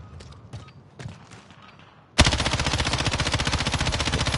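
Rapid automatic gunfire from a video game weapon starts abruptly after a few soft thumps, a loud, steady string of rhythmic shots continuing to the end.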